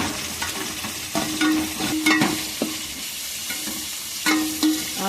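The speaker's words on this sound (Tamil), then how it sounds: "ரைஸ் பொடி சேர்க்குறேன். நல்லா கிளறி விட்டுக்கிடுவோம்." Rice powder stirred into frying Bandari fish in a pan, repeated scraping strokes of a ladle against the metal over a continuous oily sizzle, close and fairly loud, with no voices.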